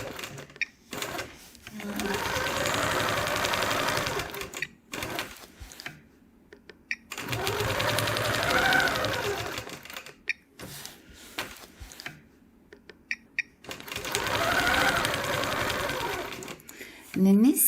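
A sewing machine straight-line quilting a patchwork block runs in three long bursts of fast, steady stitching, with short pauses and handling noises between them; no speech is heard.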